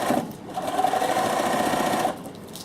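A sewing machine zigzag-stitching binding onto a fabric pouch runs in one steady, close whir for about two seconds, then stops abruptly, with no talking.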